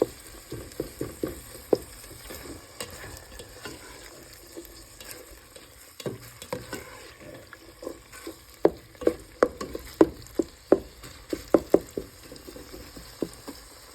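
Meat for chili browning in a pot, heard as soft frying and sizzle under frequent stirring scrapes and knocks, with clicks clustering more densely later on; no voices.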